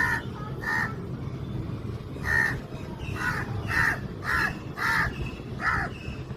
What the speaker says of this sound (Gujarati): ઉપર આ કાગડો ક્યારનો કા મંડાણો